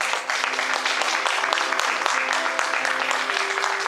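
A church congregation applauds and cheers together in praise, a dense steady wash of clapping with voices mixed in throughout, close and loud.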